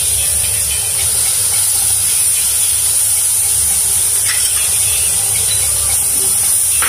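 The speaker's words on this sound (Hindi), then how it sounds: "तेल को हम 2 मिनट के लिए गर्म होने देंगे धीमी आंच पे। जब ये अच्छे से गर्म हो जाए तो इसमें धीरे धीरे हम सारे इंग्रेडिएंट डाल देंगे। सबसे पहले हम इसमें लहसुन डाल देंगे।" Garlic frying in oil heated over a low flame for Schezwan chutney, a loud, steady, close sizzling hiss that fills the whole stretch without a break.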